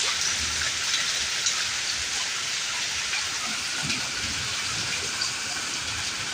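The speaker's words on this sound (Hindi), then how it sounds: "कितनी शदीद बारिश हो रही है।" Heavy rain pours down in a dense, steady hiss, with drops pattering on surfaces close by and no other sounds.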